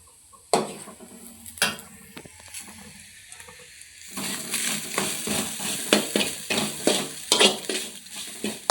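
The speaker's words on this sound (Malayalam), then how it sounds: "ചെറിയ തീയിൽ വെച്ചിട്ടൊന്ന് വറുത്തെടുക്കാം" Coconut and cumin frying over a low flame in a pan, with sharp spatula scrapes and knocks against the metal, at first sparse, then a steady low sizzle under a quicker run of stirring strokes.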